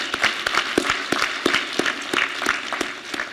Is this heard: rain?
no